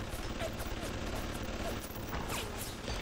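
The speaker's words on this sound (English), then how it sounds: "Is this just another turret shooting it or something?" Automated turret gunfire in the video game BioShock, a dense and steady rattle of rapid shots that continues without pause beneath the game's ambient noise.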